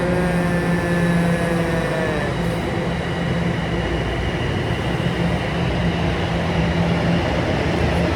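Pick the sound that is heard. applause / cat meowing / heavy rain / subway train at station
subway train at station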